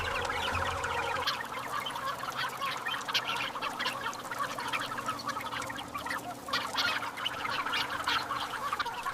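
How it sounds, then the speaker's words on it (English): Guinea fowl calling on a poultry farm, a dense flock of birds giving continuous overlapping cackles and honking calls, steady and close throughout. "These guinea fowls are very active today."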